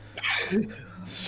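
A single sharp sneeze bursts out close by during a tabletop game session, with a brief breathy intake before it and a short vocal sound right after.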